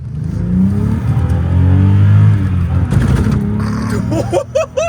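A car engine in diesel mode roars and builds under acceleration, a strong low growl that rises and then falls away, with brief voice-like tones near the end.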